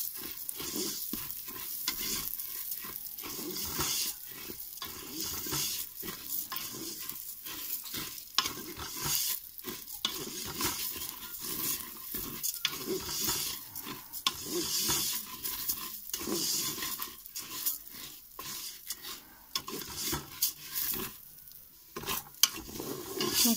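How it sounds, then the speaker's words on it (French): Rice grains being stirred and toasted in a hot pan until pearly, with a continuous dry sizzle broken by frequent scraping and clinking strokes of a utensil against the pan, close and fairly quiet. "le riz, il est en train de nacrer"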